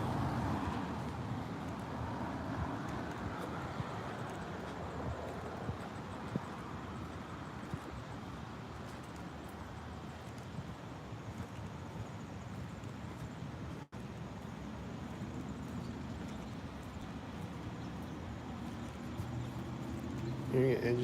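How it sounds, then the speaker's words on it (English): Steady road traffic rumbles throughout, car engines droning and washing past at moderate distance, with a voice talking over the continuous noise. "Hearing an engine sound right now."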